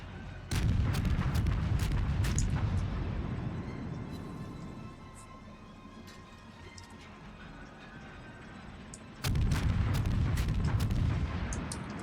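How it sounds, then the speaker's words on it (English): Warship guns firing in the World of Warships naval game, heavy booming salvos with deep low rumble in two loud bursts separated by a quieter stretch of sustained battle noise. "He's firing AP towards me with those terrible arcs, and he misses."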